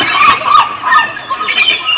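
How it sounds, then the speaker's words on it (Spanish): A seagull squawk sound effect played by a DJ in a comedy show: a loud, close series of harsh, rising squawks and squeals in quick succession, with no talking over it. "¿qué tiene que ver una gaviota en el parque?"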